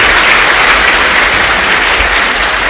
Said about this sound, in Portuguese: uma salva de palmas bem forte